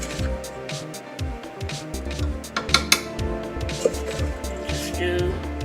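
A large spoon scrapes and clinks against a mixing bowl while flour mixture is added to pound cake batter, with repeated close utensil knocks and scraping throughout, beneath an ongoing kitchen background.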